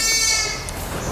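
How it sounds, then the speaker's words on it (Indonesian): Garut sheep bleat in a livestock pen, a sustained nasal cry heard close and moderately loud over a steady pen background. "Kalau yang di sini domba Garut ya Mas?"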